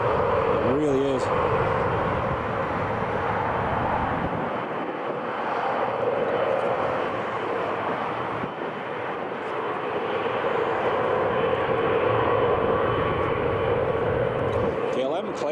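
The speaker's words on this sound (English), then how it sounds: "KLM's coming in" A KLM airliner comes in to land at Newcastle International Airport on runway 07, its steady engine roar filling the air continuously and swelling slightly, with people talking over it.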